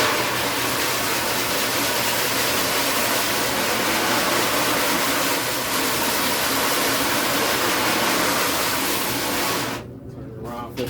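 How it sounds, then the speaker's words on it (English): A regular garden hose on a shower setting sprays water steadily over both sides of a screen-printing screen to develop the print, making a dense, loud hiss that runs unbroken for about ten seconds before cutting off. "I'm just gonna use just my regular garden hose and put it on shower right now to wet it up and wet up both sides"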